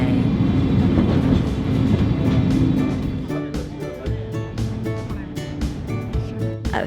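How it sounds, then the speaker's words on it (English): An old-fashioned Sagano Romantic Train runs through Arashiyama, Kyoto, Japan, with a steady, loud rolling rumble from inside a full carriage, then lighter rhythmic clicks and rattles from the wheels and car. "It's an old-fashioned style train."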